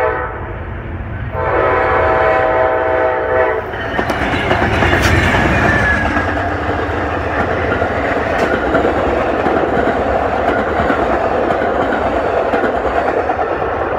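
An Amtrak train sounds a long horn blast as it approaches, then rolls past loudly at close range with continuous rumbling and wheel clatter for the rest of the passage.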